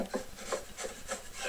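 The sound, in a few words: chisel paring off a wood overhang on a routed part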